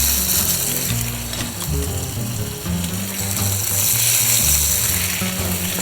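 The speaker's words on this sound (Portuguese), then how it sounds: "E começamos a grelhar." Salmon frying on an olive-oiled grill, a steady close sizzle with crackling that holds at an even level throughout.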